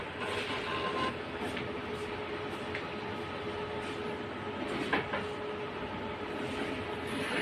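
A semi-automatic biochemistry analyzer running during a serum amylase kinetic test, giving a steady low mechanical hum with faint periodic clicks, no talk.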